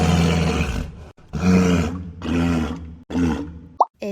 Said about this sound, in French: It's the walrus.